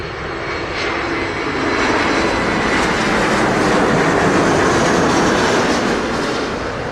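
A Delta airliner lands on runway 25 at Montego Bay, Jamaica, a loud sustained roar of engines and rushing air that swells and holds steady through the whole stretch, with no voices.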